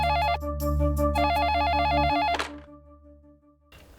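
A telephone rings loudly with a warbling electronic trill in repeated bursts, then is picked up with a thunk, leaving a faint hum and a brief rustle.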